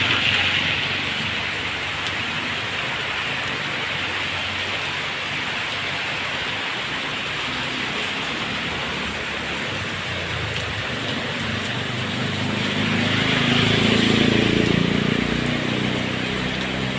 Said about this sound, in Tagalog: Magang maga pa lang umuulan.